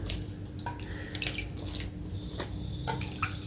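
Garlic-infused water poured into a kadhi mixture of besan, a steady watery splash and trickle running throughout with a few small clinks, fairly close and alone.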